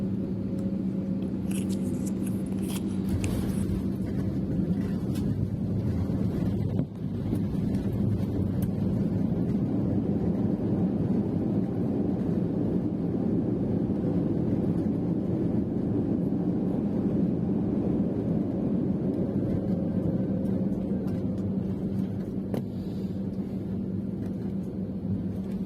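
Steady, muffled engine roar and rushing air fill the cabin of an Air India economy-class plane taxiing after landing on a Mumbai to Nagpur flight, with a few soft clicks near the start.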